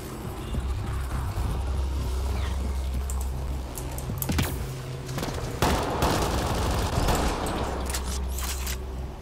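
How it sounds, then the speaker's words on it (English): Gunfire from the Valkyrie rifle in the video game Mass Effect Andromeda, a dense run of sharp repeated shots over steady game background noise, with louder bursts near the middle and again toward the end. "I love the sound of this gun. This gun sounds awesome. The Valkyrie."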